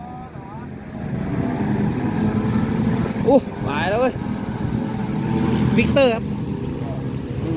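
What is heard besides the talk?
Kawasaki motorcycle engine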